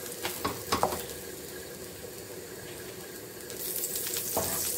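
An aloo paratha flipped and frying in oil in a pan crackles and sizzles close up, with louder spits near the start and a rising hiss toward the end.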